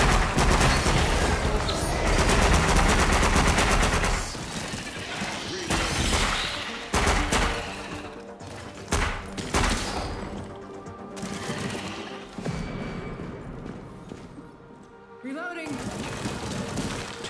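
Two pipe bombs going off in the game After the Fall, a loud burst of explosive, crackling noise that fills the first seconds before dying into echoing debris and scattered rumbles.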